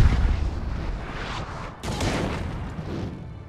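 Cannon fire on a large Napoleon Total War battlefield between Great Britain and Spain, a dense rumble of overlapping booming shots, with a fresh loud blast about halfway through and a continuous battle din behind it.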